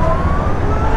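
An Ather 450X Pro electric scooter accelerates in rap mode with a rising electric motor whine over steady road and wind rumble, loud and close.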